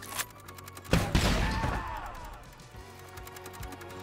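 Grenade launcher fire in Metal Slug Tactics: a short pop, then a loud crashing blast with a trailing rumble that decays over about a second, set against chiptune-style game music.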